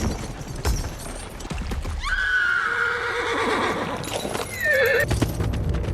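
A horse in a scene from The Rings of Power Season 2 Episode 1 lets out a loud, drawn-out whinny and a second shorter neigh, with hooves clopping and rustling action around it.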